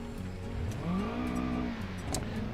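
A supercharged car engine in BeamNG, a steady tonal whine that rises and falls as the revs change over a low engine drone, close and moderately loud.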